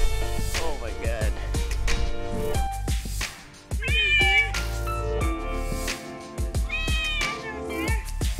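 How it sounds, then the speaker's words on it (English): Several cats at an adoption shelter in Taiwan give repeated loud, close meows, some drawn out and wavering like caterwauls, one after another with short gaps between them. "Wow, that's the strangest cat I've ever seen."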